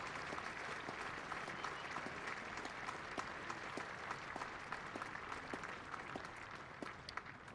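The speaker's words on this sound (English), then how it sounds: "And the dressing room applaud their skipper." Teammates in a county cricket dressing room applaud their captain reaching fifty in a Durham versus Yorkshire championship match, a faint, distant patter of scattered claps carrying on steadily over the ground's ambience.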